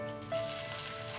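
Hot tempering poured into Kerala sambar gives off a brief, soft, steady crackling sizzle, close by and alone.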